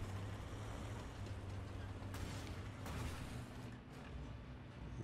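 Low, steady rumbling drone of a tank engine in a video game featuring the Bundeswehr LeKPz M41 light tank, running continuously at moderate level with faint bursts of noise around it and no speech.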